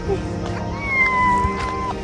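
A cat meows with drawn-out, wavering cries, moderately loud and close, over a steady background hum.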